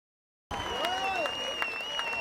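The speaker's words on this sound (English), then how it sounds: "You hear the cheering from both sides as Elbert Hamilton" A crowd at a high school football game between Antioch and Northgate cheers and applauds, a dense, sustained roar with scattered whistles heard at a distance after a sudden start.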